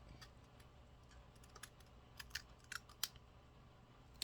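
Scissors cutting guitar shielding material, a series of small quiet snips and clicks at uneven intervals, close but faint over a low background hum.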